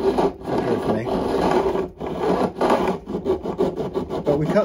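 Hand cutting and rasping of metal frets during a refret of a Washburn acoustic guitar, a steady scraping file sound with brief pauses, then quicker rhythmic strokes toward the end, close and fairly loud.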